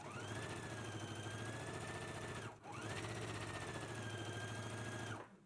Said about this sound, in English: We're going to stitch using a 5/8 of an inch seam allowance.